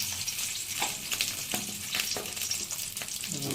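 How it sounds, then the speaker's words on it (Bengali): Eggs sizzle and crackle in hot oil seasoned with salt, a constant frying hiss broken by soft scraping and stirring knocks, with no talking. "লবণ দিয়ে এই ডিমগুলো এর মধ্যে দিয়ে দেব।"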